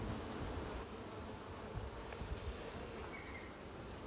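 Buckfast honeybees buzzing at an open hive being inspected for winter, a steady dense hum of many bees close by, with no voices.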